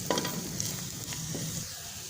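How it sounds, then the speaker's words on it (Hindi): Spices and ajwain frying in a pan, a steady close sizzle with faint stirring scrapes, no talking. "इसको हम तकरीबन 1 मिनट के लिए मसालों को अच्छी तरह से भून लेंगे जी"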